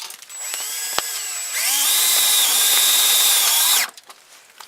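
A power drill whirs loudly for about two seconds as it drives a self-tapping screw, starting after a sharp click, then stops abruptly.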